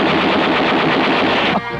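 Comedy sketch sound effect of rapid machine-gun fire, a loud dense burst of repeated shots lasting over a second and a half before cutting off abruptly into quieter background.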